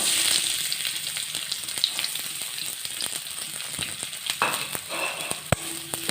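Chopped onions fry in hot oil in a kadai, a steady close sizzle with occasional stirring clinks and crackles, and no voices.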